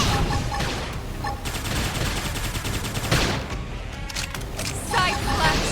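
Flame grenade attack in the video game Xenoblade Chronicles X: dense, continuous crackling bursts like rapid gunfire and blasts, loud and close, layered with other game effects and a voice talking over the action.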